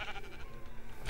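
A sheep bleats in a Minecraft SCP mod, one wavering, slightly distorted call lasting about a second at moderate volume.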